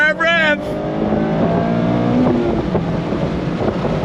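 A 2025 Mazda MX-5 Miata engine revving hard and rising in pitch through the gears, loud and close, with wind rush and a voice speaking over it.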